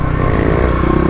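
Kawasaki KLX351 dirt bike with a Stage 3 setup riding off-road OHV trails, its engine loud and close with a steady, rough throaty drone and some clatter throughout.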